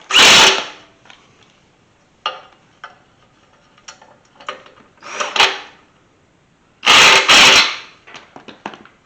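Power drill slowly running bolts into a 1991 Chevy C1500 pickup, in short separate bursts of whirring, each followed by quiet clicks and tool handling.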